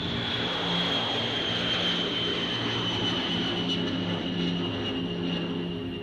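A large, heavy US bomber on its takeoff run as the wheels leave the ground, a steady, loud engine roar with a whining high tone that holds evenly throughout.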